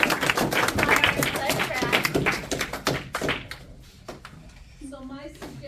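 An audience at a high school event applauds in a dense, loud burst of clapping that gradually thins and fades, with people talking over and after it.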